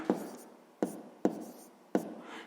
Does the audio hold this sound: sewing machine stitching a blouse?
no